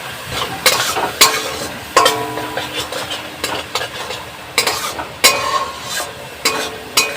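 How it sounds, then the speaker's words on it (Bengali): Spices fry in a pan with turmeric and salt, a steady sizzle under repeated metallic scrapes and clinks of a spatula stirring, close and fairly loud. "এটাকে ভাজা ভাজা করে নেবো।"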